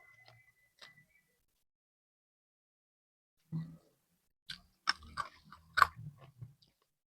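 Close, quiet chewing of stir-fried young jackfruit with salted fish at an Indonesian breakfast, a few soft clicks early, then a cluster of crunchy bites and mouth sounds after a long silent gap.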